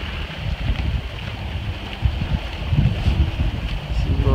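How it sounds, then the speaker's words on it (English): Gusty wind buffets the microphone outdoors at a campground, a low rumbling roar that rises and falls over a few seconds. "It is pretty windy."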